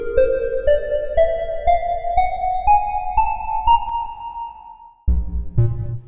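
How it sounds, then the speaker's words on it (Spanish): A rising sequence of synthesized tones stepping up a 12-tone equal-tempered approximation of the harmonic series, each note struck evenly in a steady rhythm and climbing higher, followed by a lower chord-like tone near the end, with no voices. "una aproximación en temperamento igual de 12 divisiones, o sea, en semitonos, a la serie armónica"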